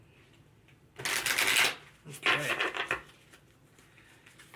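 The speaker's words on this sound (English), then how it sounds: "Let's do one more shuffle, Get them all crispy." Tarot cards shuffled during a love tarot reading, two brisk riffling bursts of roughly half a second to a second each, close and fairly loud, with a brief spoken word nearby.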